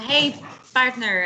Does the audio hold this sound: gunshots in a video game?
no